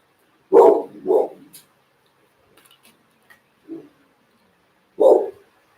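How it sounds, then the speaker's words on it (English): A dog barks in a few sharp, loud bursts near a window, with a pair of quick barks, a softer yip, then one more bark after a pause in an otherwise quiet room. "That would be my dog trying to rip through the window."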